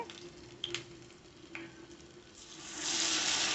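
Amaranth leaf vada batter (thotakura garelu) dropped into hot oil, frying with a steady soft sizzle, a few brief crackles early on, and a louder, denser hiss building toward the end; no one talks.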